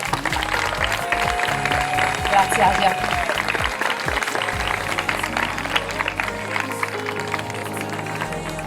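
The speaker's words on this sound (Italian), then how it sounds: "un applauso anche ai loro genitori" Applause from the audience at the finale of the Miss Little Princess 2025 children's pageant at Villa Sara in Mestre, Venice, rolling steadily throughout beneath an announcer's amplified voice.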